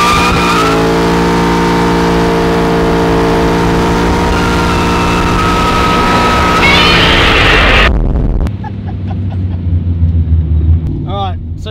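An HSV GTO coupe doing a burnout, its engine held at high revs in a loud sustained roar that climbs in pitch, then cuts off abruptly. Afterwards it settles to a lower rumble with faint squeaks, close to the microphone.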